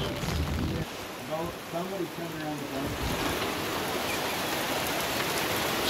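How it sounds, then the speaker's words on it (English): Steady broadband hiss of light rain falling on a lake's surface, with a low boat hum and a brief voice underneath near the start, continuous throughout. "Just a little bit of rain."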